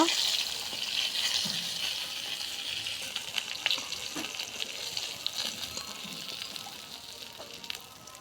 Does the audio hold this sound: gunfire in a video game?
no